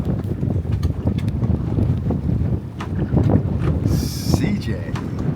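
A small sea-fishing boat drifting in wind over tide, with steady gusting wind buffeting the microphone over low water slaps and rocking, loud and continuous throughout.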